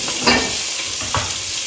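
Onions fry in olive oil for coq au vin, a steady, fairly loud hiss of sizzling filling the moment, broken by two brief soft clatters of a spoon or pan.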